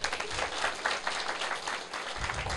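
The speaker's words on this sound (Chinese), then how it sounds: "拍手，讲你有听。" A seated audience at a Taiwan Civil Government senior administrative counsellor class claps together, a sustained, fairly loud burst of many hands that holds steady throughout without speech on top.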